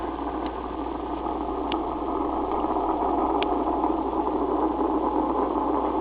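Space Shuttle Discovery climbing after its 2009 launch from Kennedy Space Center, a continuous, even, dense engine roar holding steady throughout with faint occasional clicks and no voices.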